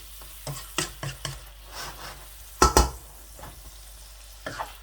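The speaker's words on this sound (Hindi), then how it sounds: "अभी तकरीबन 7-8 मिनट तक मैं इसको इसी तरह ही दरमियानी सी आंच तक पकाऊंगा।" Chicken jalfrezi cooking in a pan on a medium flame, with a low continuous sizzle broken by several sharp scraping stirs, two loud ones close together near the middle.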